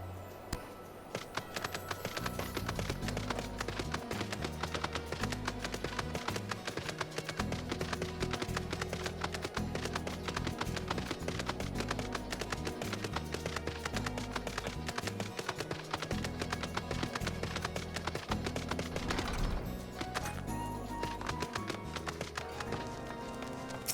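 Mount hooves from Final Fantasy XIV, a horse or pegasus, trotting in a quick, steady clip-clop rhythm beneath a busy game music score, constant and moderately loud.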